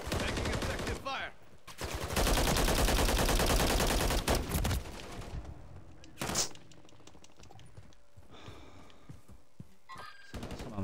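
Video game gunfire: a dense automatic burst rattles for a couple of seconds, then a single sharp shot and scattered lighter pops follow at a distance.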